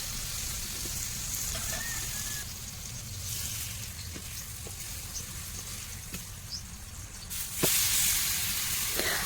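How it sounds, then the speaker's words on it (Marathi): Pineapple pieces roasting in spiced masala in a pan give a continuous close sizzle and hiss, steady throughout with faint crackles and a louder surge near the end. "फोडी लालसर होईपर्यंत चांगल्या भाजून घ्यायच्या आहेत."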